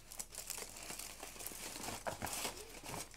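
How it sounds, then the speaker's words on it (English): Foil wrapping being peeled off a chocolate Easter egg, a steady close crinkling and rustling at low volume throughout. "I'm unwrapping it now."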